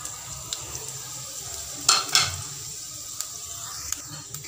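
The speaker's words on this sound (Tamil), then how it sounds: "இது பொரியிற அளவுக்கு நல்லா பொரிச்சுக்கலாம்" Whole fennel seeds, cloves, cardamom, cinnamon and bay leaf fry in hot oil for a salna base, giving a soft steady crackle and sizzle with a couple of sharper pops and faint pan or spoon taps, no one talking.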